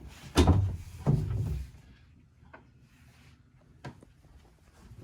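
A boat cabin door on a 43-foot Mikelson handled nearby: two solid thumps and clunks close together, followed by quiet with a couple of faint knocks.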